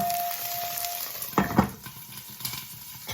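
Stuffed peppers and okra frying in a covered pan, a soft continuous sizzle with a few louder crackles and spits, and occasional clinks of the pan and utensils, close and fairly quiet, no voices.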